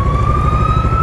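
Police patrol car siren wailing steadily from behind a Bajaj Dominar 400 motorcycle on the road, loud and continuous under the low rumble of traffic and engine noise.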